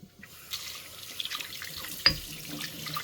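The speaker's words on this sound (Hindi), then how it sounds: "अब इसको मैं साथ के साथ ही धो दूँगी" Utensils are washed under a running tap at a home kitchen sink, with faint trickling water, soft clinks and one sharp clatter of metal partway through. The sounds are quiet and close.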